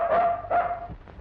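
A dog in an old Tamil film scene gives two close, loud barks in quick succession, each with a clear tonal edge, followed by a short quieter tail.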